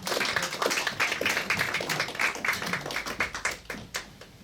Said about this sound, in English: And another round of applause for the two.